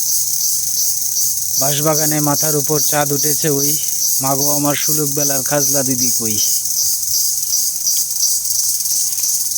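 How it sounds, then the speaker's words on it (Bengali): Crickets near a bamboo grove keep up a steady, shrill chorus through the whole stretch, while a person recites in a sing-song voice over it in the middle. "চারিদিক দিয়ে ঝিঝি পাখি ডাকতেছে"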